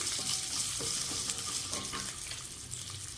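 Ingredients for a ground-masala chicken curry sautéing in a pan, a dense loud frying hiss with repeated quick scraping stirs, close up and with no talking.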